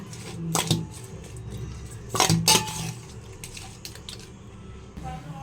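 Prawns are tossed by hand in a bowl with salt, turmeric, lime juice and chilli powder, producing close, wet squelching and sharp clinks of the bowl in a few bursts.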